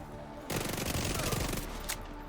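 A Vector submachine gun in The Division 2 fires one unbroken fast burst of about one and a half seconds, a dense rattling buzz of shots that starts sharply and cuts off, with one last crack close behind it.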